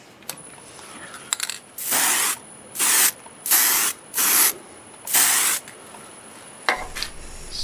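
Spray can applying light coats of finish to a segmented wood turning made from scrap, heard as five evenly spaced hissing bursts, each about half a second long, close and fairly loud, with small clicks and handling noises before and after.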